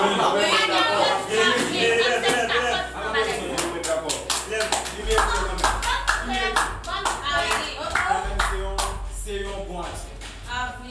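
Applause from an audience in a French-language drama series, steady dense clapping running the whole time with a low background hum and some voices mixed in.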